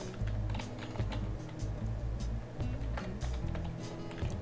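Typing HTML code on a computer keyboard, a steady stream of soft key clicks running without pause under a low steady hum.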